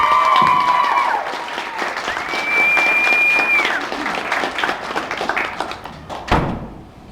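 Applause from a comedy club audience welcoming a stand-up comedian to the stage, a dense wash of clapping with some whoops that stays loud and steady for several seconds, then thins out, ending with a thud.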